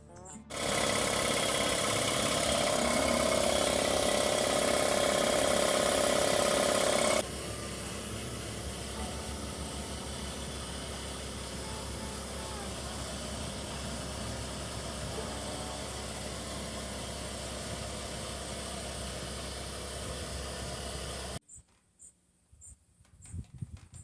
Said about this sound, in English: I hook it up to my air compressor and start the compressor